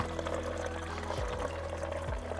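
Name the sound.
wort recirculating in Klarstein Maischfest mash kettle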